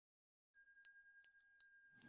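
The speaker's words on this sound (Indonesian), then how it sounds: "Dibunyinya genta itu untuk memanggil sang naga Besuki." A ceremonial bell rings to summon the dragon Besuki in an animated Balinese legend, three clear metallic strikes with sustained ringing tones after a short silence, alone and fairly close.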